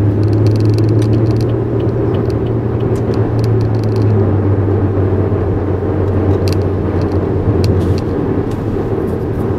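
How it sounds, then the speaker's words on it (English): Steady low engine rumble of city traffic heard from inside a moving car, with buses nearby, a continuous drone and droning hum that stays loud throughout, no one speaking. "Noisy buses."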